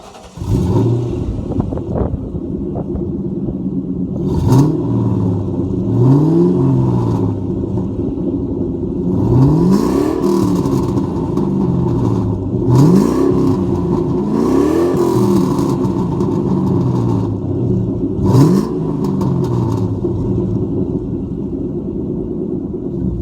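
A deep Ford Mustang GT V8 exhaust with a catless X-pipe and stock cat-back burbles steadily, with several sharp revs rising and falling, loud and close with no talking.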